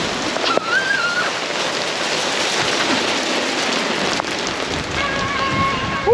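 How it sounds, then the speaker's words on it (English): Tiny hailstones falling during a storm in Augusta, heard from inside a van as a dense, steady hiss of pattering on surfaces with a few faint knocks. "It's hailing. That's probably gonna be really hard to see, but it started hailing."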